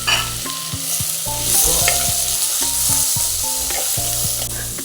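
Tomato tossed into a hot pan of frying onion and vegetables for a brinjal stir-fry, giving a steady, loud sizzle with stirring clatter throughout and no talk.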